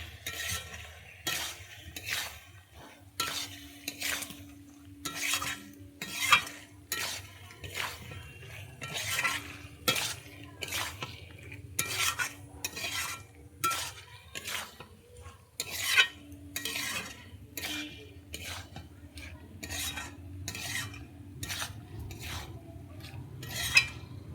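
Fried potatoes cook in a pan with spices for a Bengali vegetarian curry. A spoon scrapes and taps the metal pan in a regular rhythm throughout, over a faint sizzle, fairly quiet and close.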